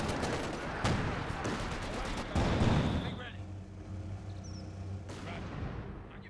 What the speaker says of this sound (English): M114 howitzers are prepped and ready to barrage the battlefield.